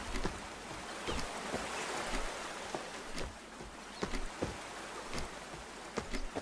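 Waterfall ambience in a video game: a steady, dense rush of falling water fills the background, broken by occasional sharp taps that stand out above it.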